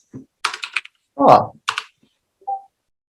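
Computer keyboard keys tapped in a few short bursts of clicks, with speech in the clip and a brief tone near the end, in a business webinar setting.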